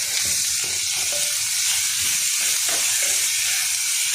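Chopped onions and crushed garlic fry in hot oil for a potato masala, a close, continuous sizzle with soft stirring scrapes and no talking.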